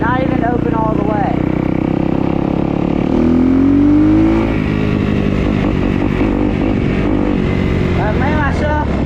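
Motorcycle engine revving steadily during a wheelie, throttle held partly open with a rising pitch in the middle, loud and close, with someone talking over it throughout.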